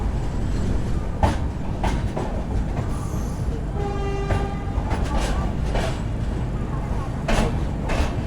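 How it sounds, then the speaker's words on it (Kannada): A double-decker train rumbles into Katpadi Junction with rhythmic clacks of wheels over rail joints and a short horn toot midway, loud and close, with faint voices around. "ನೋಡ್ರಿ ನಮ್ಮ ಟ್ರೈನ್ ಬಂತೀಗ"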